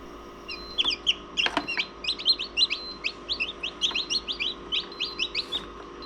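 Newly hatched baby chicks peep in a rapid, steady run of high, bright chirps, close by and with no voices.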